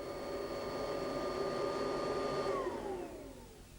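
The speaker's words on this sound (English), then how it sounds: "a scientist might use a special vacuum cleaner that collects all the dirt in a box" A vacuum cleaner runs with a steady whining drone and a high motor tone, then spins down as its pitch slides lower near the end.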